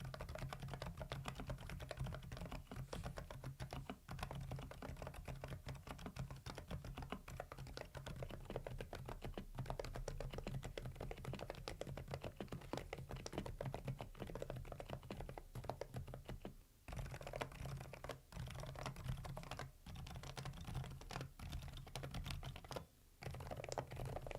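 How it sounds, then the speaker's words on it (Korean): Steady, continuous typing on AULA F87 tenkeyless and F108 full-size pink mechanical keyboards fitted with silent tactile Rose switches, giving soft, muted, rapid keystrokes close up with no talking. "저소음 로즈 축은요, 이 텐키리스 배열과 풀 배열 차이도 비교를 해보았습니다. 간단하게 한번 들어보세요."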